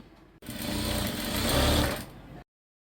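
A sewing machine stitches a folded sleeve hem in one continuous run of about two seconds, a close, loud, fast whirring chatter that starts abruptly and stops dead, with silence afterward.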